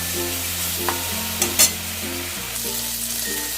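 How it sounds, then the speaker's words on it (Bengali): Prawns fry lightly in mustard oil in a wok with a loud, continuous sizzle and crackle, broken by a couple of scraping stirs and a brief clatter near the middle. "চিংড়িগুলো হালকা করে ফ্রাই করে নিলাম"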